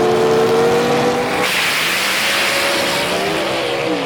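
Gasser drag race cars launch at Mooresville Dragway in North Carolina, loud engines howling and rising in pitch as they pull away, with a burst of tire noise mid-run and no voices.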